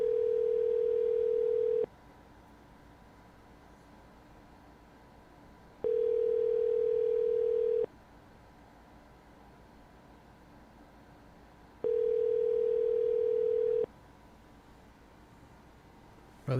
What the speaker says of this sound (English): Let's give him a call back.